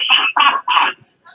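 A radio caller imitates a rooster's crow with his voice: three close, loud, strained cock-a-doodle bursts in quick succession, then a short quiet tail.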